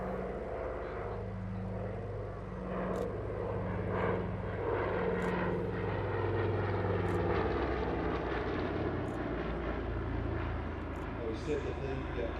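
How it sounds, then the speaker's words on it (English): A PBY-5A Catalina flying boat drones overhead at the Midlands Air Festival airshow, a steady propeller engine hum lasting throughout beneath continuous commentary from someone speaking. "he's now back in the UK and flying this wonderful PBY-5A Catalina in"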